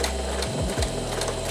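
A home sewing machine stitches along a fabric seam, a dense steady mechanical whirr with a brief shift partway through as it reverses for a couple of backstitches, close and loud with no talking.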